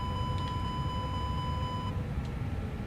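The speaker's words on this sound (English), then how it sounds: "What's that beeping about, honestly?" Cockpit warning tone in Microsoft Flight Simulator aboard a Jet2 Airbus A321neo, a steady high electronic beep that holds for about two seconds and then cuts off over a low engine rumble.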